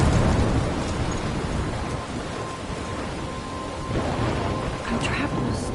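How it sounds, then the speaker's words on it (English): Heavy rain pours steadily in a thunderstorm in Life is Strange, with deep rumbling thunder throughout, dense and loud. "I'm trapped in a storm?"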